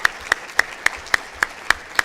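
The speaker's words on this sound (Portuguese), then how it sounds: "Este era o professor Walter Belda, uma salva de palmas" Clapping at the opening plenary of a 2017 STD/AIDS conference in Rio, heard as sharp, evenly spaced claps in a steady rhythm, about four per second.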